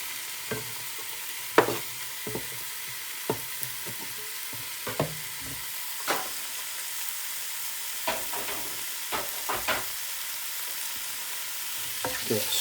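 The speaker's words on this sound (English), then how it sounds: "Give it a stir around." Chopped onions and garlic frying in a pan, a quiet steady sizzle punctuated by a dozen or so sharp scraping stirs spaced irregularly, with no talking.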